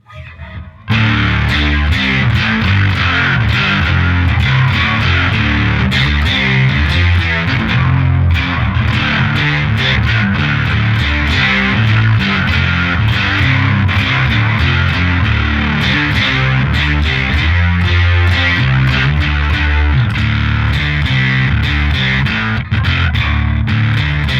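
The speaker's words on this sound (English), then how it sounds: "Put tone, boost that up, put octaver, distortion, and let's go with the V2 bass also" A heavily distorted bass through a Tech21 Bass Boost Chorus with an octave-doubling effect plays a continuous, loud, gritty riff throughout, with no talking.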